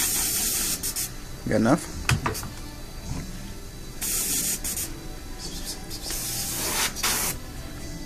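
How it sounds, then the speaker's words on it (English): An airbrush sprays white and then yellow paint onto an RC car body, giving short hissing bursts that start and stop repeatedly close by, with a brief spoken question between sprays. "Come in with the white again, and then I'll come in with some yellow."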